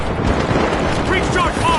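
Frag grenade blowing up in the arena shooter The Finals, a loud, rumbling burst sustained over a second and a half, with no separate distinct blasts.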